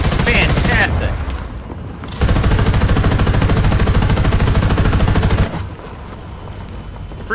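Rapid machine-gun fire from a tank in the combat video game War Thunder, loud and continuous in a sustained burst, with quieter engine rumble before and after the firing.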